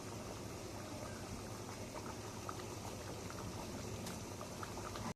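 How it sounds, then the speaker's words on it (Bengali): A spice mixture with pointed gourd (potol) simmers at a steady, even bubbling boil, the gentle churning holding constant and close without a break until it stops abruptly at the end. "দেখো, মশলাটা ফুটছে, পটলটাও দেয়া আছে।"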